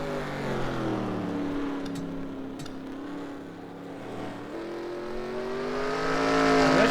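Short-track race cars on the final lap at Langley, engines droning in layered pitches that slide down as they ease off, then climb as they accelerate and grow louder toward the end.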